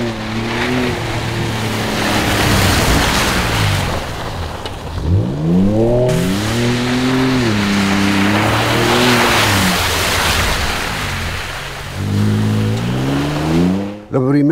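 A 2023 Ford Ranger Raptor pickup driving on a street, its engine rising and falling through several accelerations and gear changes, loud and close from inside the cabin with road noise underneath.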